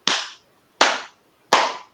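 Three sharp, loud hand claps ring out, evenly spaced about three-quarters of a second apart, each with a short decaying tail, with silence between them and no talking.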